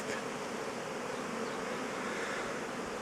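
A honeybee swarm moving into a hive at an apiary fills the air with a dense, continuous buzzing hum, steady and moderately loud throughout.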